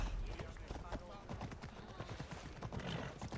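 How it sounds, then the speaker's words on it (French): Rapid rhythmic hoofbeats of a galloping horse in the video game Assassin's Creed Odyssey, steady and fairly close, running throughout with no talk. "le cheval, des fois, il met trop de temps, en fait, à galoper"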